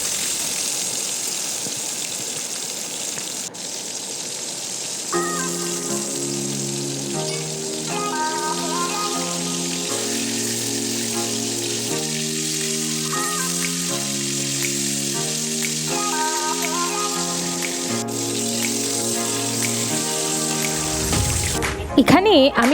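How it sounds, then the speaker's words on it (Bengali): Pieces of hilsa fish fry in hot oil with a constant, bright sizzle throughout, while background music plays over it. "বাকি যে মাছের টুকরোগুলো থেকে গেছে সেগুলো আমি একে একে ভেজে নেব"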